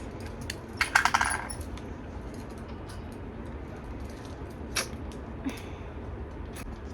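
Package tape being peeled and torn open, a burst of crinkling and tearing near the one-second mark and a couple of brief rustles later, close by over a low room hum.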